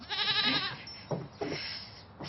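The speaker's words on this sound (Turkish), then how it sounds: "bahçede keçi var." A goat in a garden lets out one clear, wavering bleat up close, followed by a few soft thuds and rustles.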